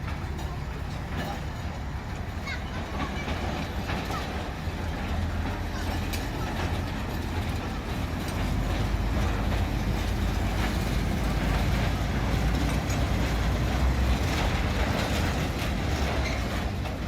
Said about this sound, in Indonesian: Inilah saat kereta lori melewati jalur yang putus ya, sampai batas ini.